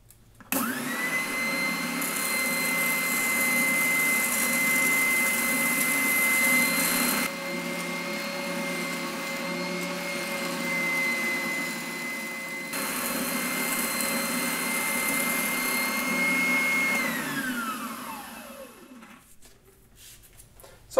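An oscillating spindle sander used for grinding inner curves in metal runs steadily with a loud, constant motor whine and hum, close by, then spins down to silence near the end.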